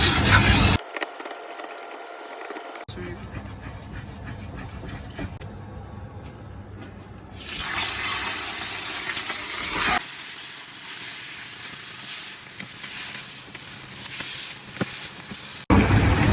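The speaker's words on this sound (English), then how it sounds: "Now stir until it caramelizes." Sugar stirred in a hot pan while it caramelizes for braised bamboo shoots, giving a steady scraping, rubbing texture with hissing and sizzling that swells partway through, close and alone with no talk.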